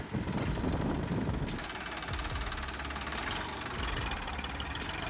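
A tractor engine runs while the machine is stuck in deep mud, giving a steady, close mechanical chugging drone with shifting grinding and churning layers and occasional higher whining noise, with no voices.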